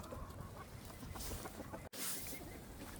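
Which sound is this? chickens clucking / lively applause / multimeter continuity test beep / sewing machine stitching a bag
chickens clucking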